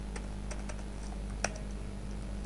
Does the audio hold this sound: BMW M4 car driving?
no